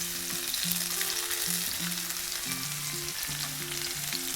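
Sage leaves fry in hot ghee for a sage and onion chicken roast, a soft, even sizzle running throughout, fairly quiet, with background music and no speech.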